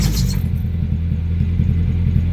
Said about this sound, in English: I'll go ahead and I'll start the car.